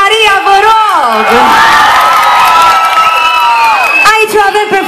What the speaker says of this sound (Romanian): Aplauze pentru Maria, vă rog!